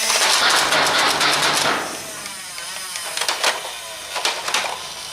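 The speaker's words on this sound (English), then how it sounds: "This thing can pump out an incredible amount of darts in no time." A NERF N-Strike Elite Hail-Fire motorized blaster spins up and fires darts in rapid bursts, a loud whirring clatter at first, then scattered sharp mechanical clicks and shots at close range.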